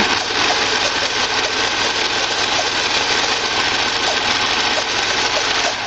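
A serger sewing machine running close and loud as it reinforces the seam of a reusable snack bag with its cutter off, a steady rapid mechanical whir held evenly throughout, no talk.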